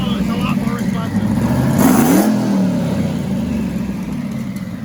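A car engine, just fitted with a disc brake conversion, idles and then revs up briefly before settling back, heard close with a person talking over it.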